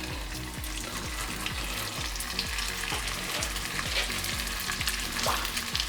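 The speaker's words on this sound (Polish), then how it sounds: "na dobrze rozgrzaną patelnię, na ten smalec układamy nasze klopsy" Buckwheat patties sizzle and crackle steadily in hot lard in a pan, a dense, continuous frying hiss heard up close.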